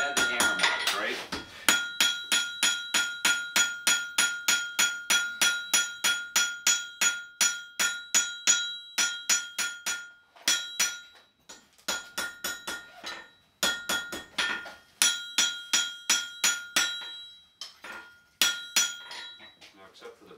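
Rapid, ringing hammer blows by a blacksmith texturing hot metal, struck in steady bursts with short pauses between runs, each strike leaving a bright metallic ring, at Great Camp Sagamore in the Adirondacks, New York.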